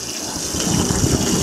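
Liquid gushes steadily into an airplane's wing tank, a continuous loud pouring and splashing that runs unbroken from start to finish with no talk over it.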